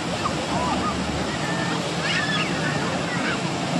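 Sea surf at Ganpatipule beach, a steady broadband wash of waves close by, with faint voices and distant beach activity mixed in.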